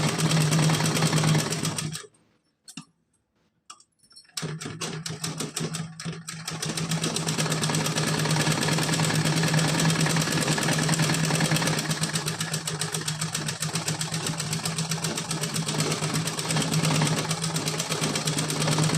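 A sewing machine runs steadily while stitching a heart-pattern dress for a Kanha ji idol, with a steady motor hum that cuts out briefly near the start, stutters a few times, then resumes and runs continuously.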